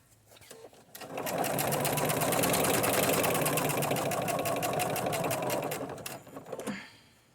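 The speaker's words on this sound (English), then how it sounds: "I just try to keep it straight while I'm sewing." A sewing machine stitches a red-and-black junk journal cover in one long, steady run of rapid mechanical clatter. It is close and continuous for several seconds, then stops.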